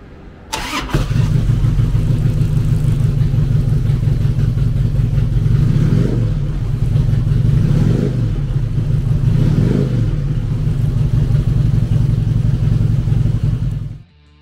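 A 2006 Harley-Davidson Electra Glide Ultra Classic with an 88 cubic inch V-twin starts with a sharp crank, then settles into a loud, loping idle close by, blipped up in three short revs before cutting off.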